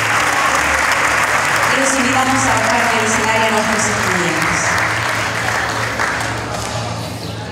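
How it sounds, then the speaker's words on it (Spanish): An audience applauds at a school graduation ceremony, loud sustained clapping from a crowd that continues beneath a nearby voice speaking over a microphone and gradually tapers off. "Le brindamos un fuerte aplauso"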